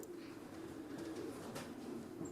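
Racing pigeons coo softly inside a loft on a sunny day, a faint, steady murmur of cooing with light rustling and no talk.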